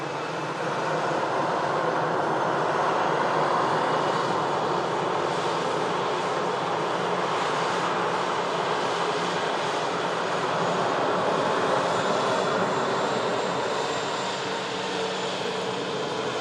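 A passenger jet operated by EasyJet passes high overhead, a steady broad roar holding at an even level throughout with no voices.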